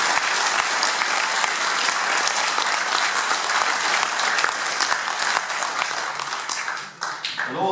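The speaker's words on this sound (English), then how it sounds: "give a good round of applause for our three speakers tonight" A meeting audience gives a long, loud round of applause for three speakers at a UKIP public meeting in Southport, dense continuous clapping from many hands that dips briefly near the end before carrying on.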